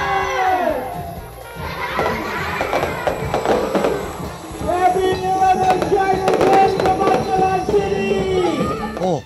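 Fireworks display at a charter celebration: crackling bursts and pops from several shells, with whistling tones rising and falling, near and fairly loud, while people talk and a crowd sounds around them.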